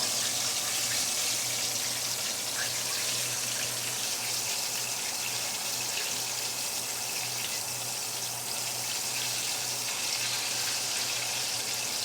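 Home-style chicken legs bubble in hot oil in a pan: a continuous, even sizzle like rushing water, steady and close, with no talking.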